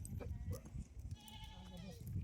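Faint sheep bleats rise above a murmur of nearby voices and low background rumble, a few short wavering calls.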